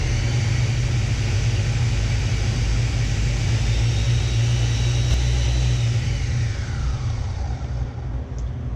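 A kitchen blender running at its fast speed while liquefying soup, a loud steady motor roar and whine held for several seconds, easing slightly near the end.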